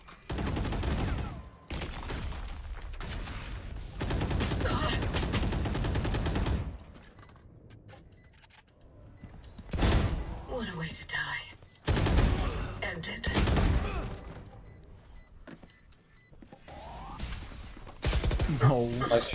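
Sheriff pistol shots in a Valorant match come as loud separate bursts, several strong cracks spread across the span with quieter gaps between them, while voices talk over the action.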